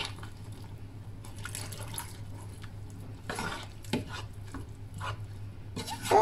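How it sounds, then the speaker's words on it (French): Rice milk trickles and drips into a pot of green lentils on the stove, with soft stirring and light clinks of a utensil against the pan, quiet and close. "On va mettre un peu de lait de riz."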